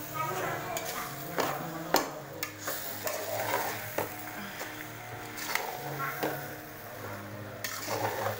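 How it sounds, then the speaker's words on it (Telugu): Puffed rice upma stirred in a pan, with irregular scraping strokes and light clinks of a spoon against metal over a soft sizzle, close up, while a person talks throughout. "మొత్తాన్ని మరమరాలని ఒకసారి వేసి కలుపుకుందాం."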